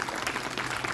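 A crowd at a village panchayat Independence Day gathering claps steadily in a dense, continuous round of applause, fairly loud and close, with no voices standing out.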